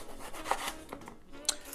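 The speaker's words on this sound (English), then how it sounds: "we're going to start by chopping our eggplant" A knife chops and scrapes through an eggplant on a cutting board, several soft, quiet strokes and rubbing cuts spaced irregularly.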